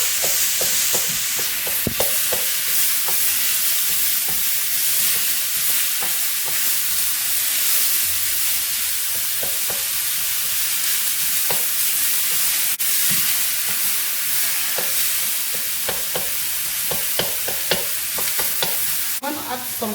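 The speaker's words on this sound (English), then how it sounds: "I'm going to add my onions to the pan." Onions and minced meat fry in a pan with no added oil while being stirred, a steady close sizzle running throughout with frequent scraping clicks of the utensil against the pan.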